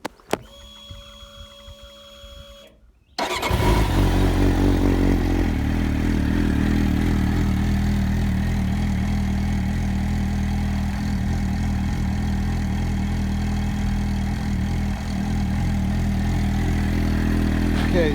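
A Triumph TT600 motorcycle engine fires up after a few seconds of quiet background and then idles loudly and steadily up close, a continuous rumbling throb with a slight uneven pulse.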